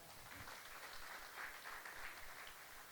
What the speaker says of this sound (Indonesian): Tepuk tangan buat Tuhan